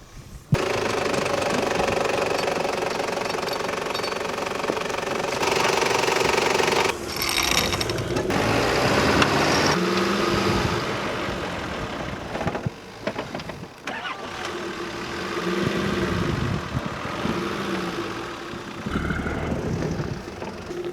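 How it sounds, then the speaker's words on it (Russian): A car engine strains as the vehicle crawls over a rough dirt road in Kamchatka, a loud steady rumble with clanks and rattles from the body and suspension, and jolts and bumps breaking up the drone. "Вот наша машина немножко не справляется"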